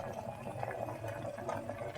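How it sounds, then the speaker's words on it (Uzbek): Shorva broth, made with the broth's own carrot, with salt and cumin added, simmering slowly in a pot; a steady low bubbling burble runs close by without a break, with no talk over it. "Endi sekin miltillab qaynayapti"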